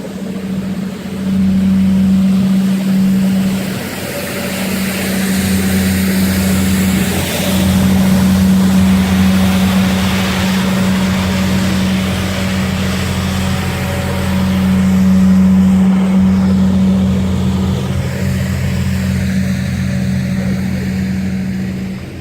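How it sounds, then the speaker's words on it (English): A heavy truck rumbles past close by, a loud sustained engine drone with a low hum and swelling, fading passes of road noise over about twenty seconds. "Let this stupid truck pass me by."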